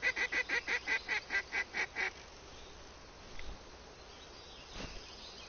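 A duck call in a hunting simulation game sounds a rapid series of about nine evenly spaced loud quacks, followed by a quiet outdoor background with a couple of faint knocks.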